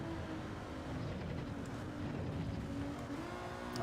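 A steady, droning race car engine in the video game Gran Turismo 7 holds a constant high rev throughout, with a buzzy, strained tone and no talking.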